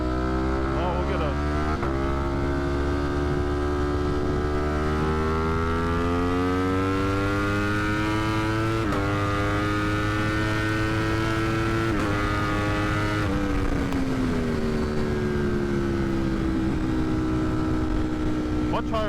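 A 200+ HP sport motorcycle with a smaller front sprocket and a malfunctioning auto blipper, its loud high-revving engine whine stepping down in pitch through several downshifts, heard continuously from the rider's position.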